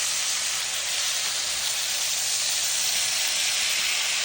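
Steak and Brussels sprouts sizzle in butter and brown sugar in a hot pan after being flipped, a constant close hiss with no break and no talking.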